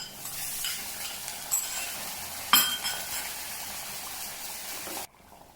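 Shallots and curry leaves sizzle steadily in a hot pan, with a few stirring scrapes and a brief clink of a utensil near the middle before the sound cuts off.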